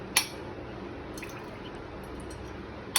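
Boiled taro draining in a strainer, with water trickling and dripping softly and quietly, plus two sharp knocks at the start and end; no voices.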